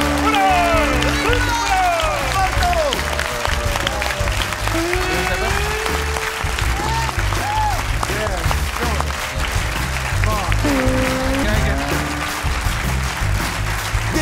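A studio audience applauds steadily after a quiz award, dense clapping sustained throughout while a host speaks over it.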